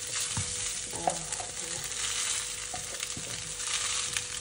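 Rice is tipped into a hot pan for fried rice and stir-fried, giving a soft continuous sizzle with light scraping and tossing sounds, fairly quiet and close, with no talking.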